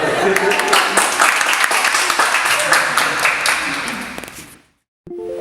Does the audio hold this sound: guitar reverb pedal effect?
no